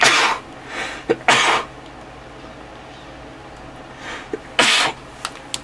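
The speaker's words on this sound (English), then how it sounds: "I'm going to sneeze." Two loud sneezes burst out close to the mic during a Forge World Ork Mega Dread unboxing, each a sharp broadband blast, the second following after a few quiet seconds, with small breathy sniffs between.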